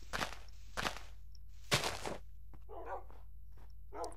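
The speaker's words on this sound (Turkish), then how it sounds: "Vay köpekler vay kemik de yok ki vereyim" Minecraft dogs bark a few times in sharp, separate bursts, followed by softer shuffling sounds, with a steady low hum underneath.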